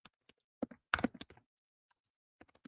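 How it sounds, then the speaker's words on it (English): Keys on a computer keyboard tapped while writing a short intro message to course enrollees, a sparse run of quiet, irregular clicks with brief clustered bursts and pauses in between. "I'll just type a intro message."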